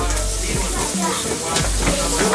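Bacon sizzling in a frying pan with a loud, continuous crackle that stays close and steady throughout.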